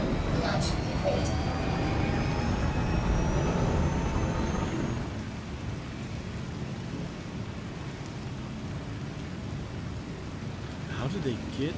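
A jet aircraft launches in GTA 5 amid rain, its loud roar and rising whine sweeping upward, then fading after about five seconds into a softer rain-filled background.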